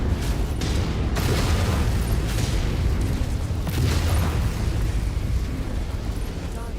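Deep, rumbling missile explosions in MechWarrior 5 boom repeatedly over a dense, steady roar of mech combat noise, loud and close, without speech.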